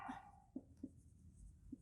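Chalk or marker writes a Sanskrit number word on a board during a class, with a few short distinct strokes and taps in a quiet room and no talking.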